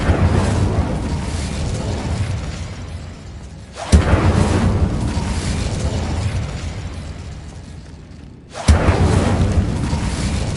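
An Incendio fire spell is cast in Hogwarts Legacy, a sharp burst followed by a roaring, sustained whoosh of flame that repeats three times at even intervals, loud and close.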